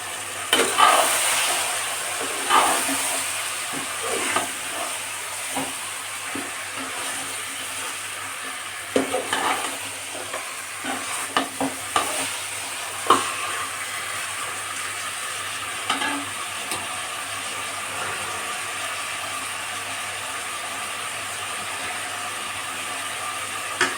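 Ingredients for a chicken gravy, seasoned with rock salt, fry in a pan while being stirred, a steady soft sizzle punctuated by scattered scrapes and clinks of the spoon against the pan, close and continuous, with no talking.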